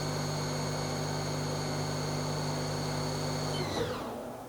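A Haas SL-10 CNC lathe spindle whines steadily at high speed, with a bright sustained tone over broadband machine noise, then winds down near the end, loud and close with no talking.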